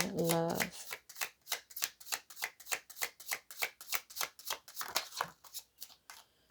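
A deck of Island Time Wellness oracle cards is shuffled by hand in a quick, regular series of crisp riffles, close and clear, after a brief spoken phrase at the start.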